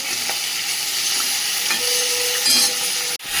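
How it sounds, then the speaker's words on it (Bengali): Pointed gourd (potol) fries in oil with a loud, continuous close sizzle that sounds like hiss. A sharp knock cuts in near the end and the sizzle briefly dips. "এবার পটলটা ভেজে নিচ্ছি"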